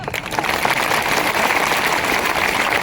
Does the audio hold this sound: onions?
no